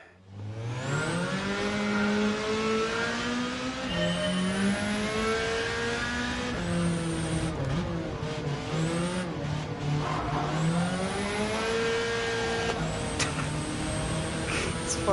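Race cars in Gran Turismo 7 Gr.4 practice rev hard and shift repeatedly, engine pitch climbing and dropping in loud rising sweeps, with brief tire squeal and whooshes of passing cars.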